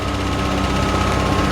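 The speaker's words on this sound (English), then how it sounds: "Nice smooth running engine." Chevrolet Vortec 6 engine idling smoothly in a 1952 Chevrolet 3100 rat rod, a steady, even mechanical hum with a faint buzzy edge, heard up close and alone.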